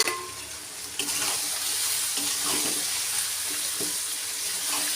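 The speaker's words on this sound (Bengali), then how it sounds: "ফ্রাইড রাইসের গাজর, গাজর, বিনস আর ক্যাপসিকামটা ভাজতে দিয়েছি।" Carrots, beans and capsicum frying in a pan for fried rice, a steady close sizzle running throughout with faint scraping, no voices.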